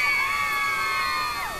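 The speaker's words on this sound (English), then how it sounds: "Round of applause." A crowd cheers and whoops to celebrate 300 subscribers, a loud, sustained burst of high shouting voices with bright, sliding tones that carries on without a break.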